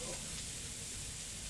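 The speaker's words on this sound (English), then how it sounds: "Hear that sizzle?" Chopped onion sizzles steadily in a hot pan while cooking for Jamaican beef patties, a soft, even frying hiss that runs throughout without a break.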